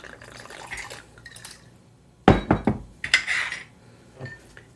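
An Old Fashioned made with Jameson is stirred, bursts of clinking ice and glass rising after a quiet start, then a few scattered lighter clinks, close and alone.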